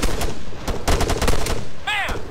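Arma 3 rifle fire cracks out in several close, loud shots at an enemy, fairly evenly spaced, followed by a brief chirping tone near the end.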